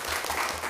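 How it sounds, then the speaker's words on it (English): Audience applause at a school board meeting, a short dense burst of clapping from a crowd, steady and moderately loud throughout. "round of applause"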